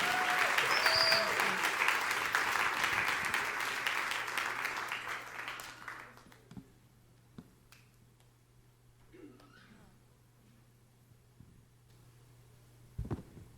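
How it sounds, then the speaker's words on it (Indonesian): Warm, steady congregational applause fills a church service for several seconds, then abruptly drops away, leaving a quiet room with a low hum and a few scattered taps and knocks. "Beri lebih meriah tepuk tangan yang meriah untuk kemuliaan Raja kita."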